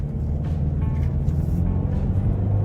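Mercedes-Benz CLS 250d 4MATIC AMG Line on the road, a steady low rumble of engine and tyre noise filling the cabin, constant and fairly loud, with no talking.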